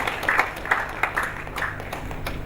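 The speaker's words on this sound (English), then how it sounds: "Another round of applause for him." Scattered applause for a speaker at the Nigerian Institute of International Affairs, a few irregular claps rising out of a low room hum, moderately close and fading quickly.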